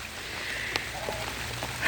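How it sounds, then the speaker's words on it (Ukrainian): Rain falls steadily outdoors over a garden of bramble cuttings, a soft continuous hiss with a few faint drops, unbroken throughout. "мені хорошо одне, що дощ іде"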